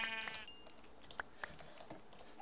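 Sheep bleating in a Minecraft world running the Technicality modpack, several short faint bleats scattered over quiet ambience, with no talk.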